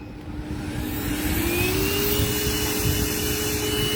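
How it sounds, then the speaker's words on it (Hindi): A cordless rechargeable vacuum cleaner runs continuously with a loud, steady whine and rushing airflow, its pitch rising slightly as the motor spins up, with no talk over it. "cordless endless vacuum cleaner, rechargeable cordless वाला वैक्यूम आ गया"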